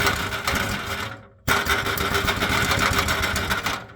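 A rattling, buzzing clatter from a loose, corroded heat shield on a Jaguar XK X150, loud and continuous with a brief drop midway, no talk.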